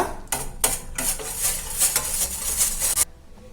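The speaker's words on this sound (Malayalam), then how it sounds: "ഇനി കോൺഫ്ലോറിനെ പാലിലൊന്ന് നല്ലപോലെ മിക്സ് ചെയ്ത് കൊടുക്കുക." Cornflour is stirred into milk for pudding, giving a series of close, rhythmic scraping and swishing strokes against the pan for about three seconds before the stirring stops.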